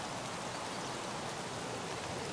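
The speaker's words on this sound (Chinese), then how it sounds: "我玩这么久了，还是一直在下雨呢" Steady, dense rain falls in the video game Escape From Tarkov, an even hiss that fills the whole stretch with no voices over it.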